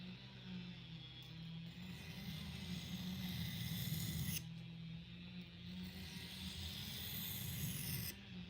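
A steel knife blade is drawn steadily across a whetstone, giving a continuous, close scraping rasp with slight swells in intensity, alone without talk.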